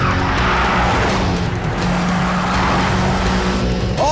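Tires screech and skid during a movie car chase, with a continuous loud roar of racing engines and squealing rubber throughout.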